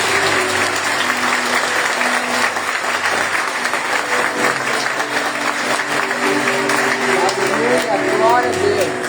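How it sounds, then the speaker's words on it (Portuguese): Audience applause fills a church service gathering, steady sustained clapping from a sizable crowd throughout, with some voices and a tonal hum underneath. "Pode bater palmas, gente."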